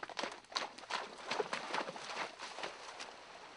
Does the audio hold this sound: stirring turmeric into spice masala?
no